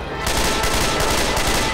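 Rapid automatic gunfire in the zombie shooter Left 4 Dead 2, a loud, dense burst of shots that starts after a brief moment and continues steadily to the end.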